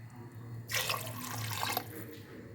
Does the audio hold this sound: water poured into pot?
yes